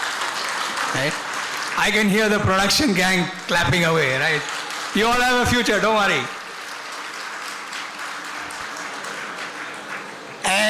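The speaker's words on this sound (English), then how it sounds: "I can hear the production gang clapping away, right?" Scattered clapping from a production crew at an engineering award ceremony runs under a man's speech, rising where he pauses and continuing faintly afterward.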